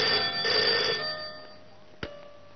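A telephone bell rings loudly in a short, bright burst, then stops and fades to near silence, followed by a single faint click.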